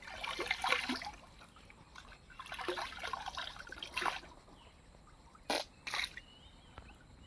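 Water from a cold stream is splashed onto a face in an outdoor setting, giving soft, irregular splashes and trickles followed by two sharper splashes near the end.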